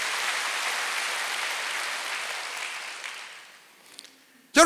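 Church congregation clapping together during a Sunday worship service, a dense sustained applause that slowly fades out, followed by a sudden loud burst at the very end.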